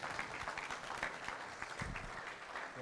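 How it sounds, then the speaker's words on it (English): Faint, distant applause from a workshop audience, a soft patter of hands clapping continuously for a few seconds. "Let's give him a big round of applause"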